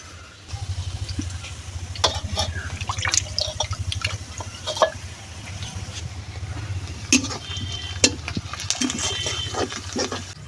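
Wet, squelchy handling of raw snakehead fish being rubbed with salt and turmeric by hand, with irregular slaps, drips and soft clicks over a low steady hum, close and moderately loud.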